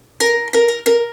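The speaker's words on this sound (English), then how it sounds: "We press the strings all along the neck to change the notes on each string." Three bright plucked ukulele notes at nearly the same pitch, evenly spaced and close, each ringing briefly before the next.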